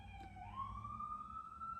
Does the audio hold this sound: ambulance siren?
yes